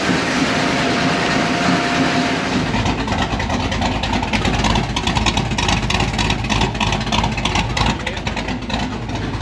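A 1987 Chevrolet Monte Carlo SS with a stroker engine and newly changed MSD distributor running, a loud, rough, continuous rumble that builds after a couple of seconds and stays heavy throughout.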